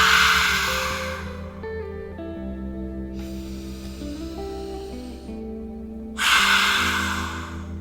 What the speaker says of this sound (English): Open your mouth, exhale.